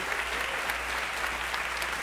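A church congregation claps together, dense and continuous applause filling the space at an even level throughout.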